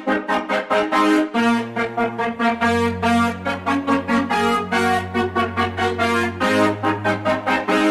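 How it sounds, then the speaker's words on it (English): A low sustained cello line enters beneath a driving synth brass riff, the bowed notes holding long under rapid bright horn stabs, the whole mix loud and busy with no talking. "Then we're adding in a cello."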